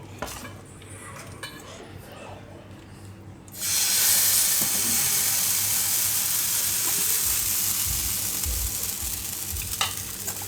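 Aloo uttapam batter hits a hot griddle: after a few quiet scrapes of a ladle, a loud, close, broadband sizzle bursts in and holds steady, with faint utensil clinks beneath it.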